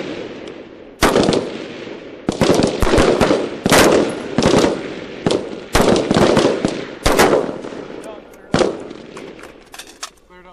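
Rifle fire during military weapons training on a range, with sharp, loud gunshots in uneven bursts of single and rapid shots, each followed by a short echoing tail.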